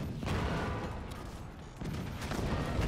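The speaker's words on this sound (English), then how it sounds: "As soon as a cannon is literally ready to fire." Cannons firing in the video game Forts during a multiplayer battle, a dense continuous roar of overlapping booms and blasts that dips briefly midway before resuming loudly.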